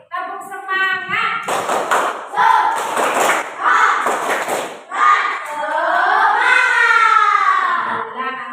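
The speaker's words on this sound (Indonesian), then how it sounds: "Tepuk semangat." A class of children does a rhythmic spirit clap in a classroom, patterned claps and thumps mixed with chanted voices, loud and close throughout.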